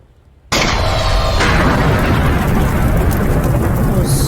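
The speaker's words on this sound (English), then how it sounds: "You will hear that explosion." A sudden, loud explosion sound effect bursts in after a brief silence, then rolls on as a dense, sustained rumble with crackling debris for several seconds.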